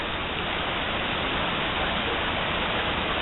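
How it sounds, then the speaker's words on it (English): Heavy rainstorm with flood water during a June 2013 flood on a rural pond property, a steady dense roar of rain and rushing water that stays constant and loud throughout, with no voices. "worth it to see the rainstorm and flood of June 27th"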